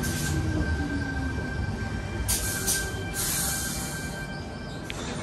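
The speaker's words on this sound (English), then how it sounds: "I've just gone and caught this Tangara now from Oatley to Mortdale" A Sydney Tangara electric train, set T30, running between Oatley and Mortdale, heard from on board as a steady rumble of wheels and motors with a faint high whine, holding level for the whole stretch.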